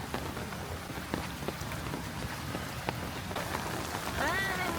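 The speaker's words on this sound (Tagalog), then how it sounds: "Kasi lakas pa rin ng ulan." Steady rain patters on a surface with scattered drops on a rainy night on Calle Crisologo in Vigan, and a voice briefly speaks near the end.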